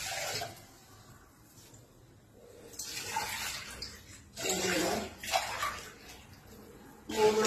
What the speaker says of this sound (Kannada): ಈಗ ಇದಕ್ಕೆ 3 ಲೋಟ ನೀರು ಹಾಕ್ತೀನಿ